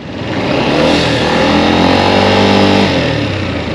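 A heavily loaded motorcycle engine drones loudly and laboriously while climbing uphill, its pitch rising slowly as it labors under load, close by and with no speech.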